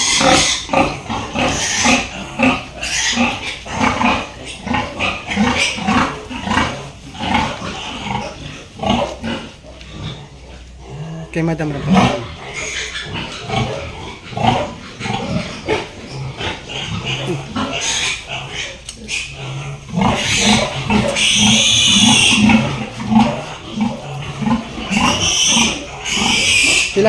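Pigs on a farm squeal and grunt loudly in bursts, rising to shrill peaks near the end, while people talk nearby.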